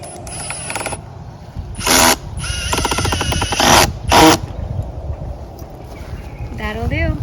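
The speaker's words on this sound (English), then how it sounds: "help me drill this back in" A power drill drives screws to fix a raised garden bed back together, with several short loud whirring bursts that spin up and cut off, between stretches of outdoor background noise.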